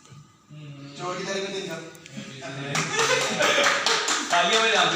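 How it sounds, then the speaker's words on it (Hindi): A group of people clap their hands, starting as scattered claps and building into brisk, loud applause, mixed with lively talk and some laughter nearby. "तालियां बजा दो, तालियां बजा दो।"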